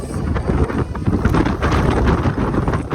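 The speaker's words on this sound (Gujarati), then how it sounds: "પવન એટલો છે ઉપર જવાય એવું છે નહીં" Strong wind buffets loudly and continuously, roaring close against the microphone.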